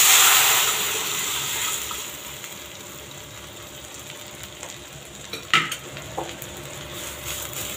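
Lentil dal tipped into well-fried onions in a pan, a broad sizzle that starts loud and fades to a steady hiss, with a few sharp spoon scrapes and clinks near the end.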